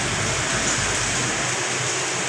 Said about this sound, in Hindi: बहुत ही तेज बारिश चल रही है।